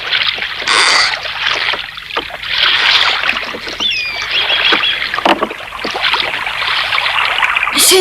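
Oars dip and splash through water in an unhurried rhythm, with trickling drips and gentle sloshing close by.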